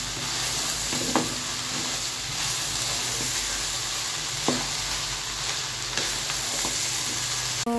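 Fried rice with tomato sauce is stirred in a hot pan, a steady close sizzle with occasional scraping knocks of the utensil against the pan.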